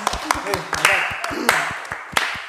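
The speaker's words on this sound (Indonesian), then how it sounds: "Tepuk tangan dong ya ampun." A few people clap in loose, uneven bursts during a lively talk show, with voices speaking and laughing over the claps.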